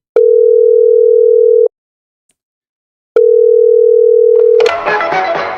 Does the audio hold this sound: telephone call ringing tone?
yes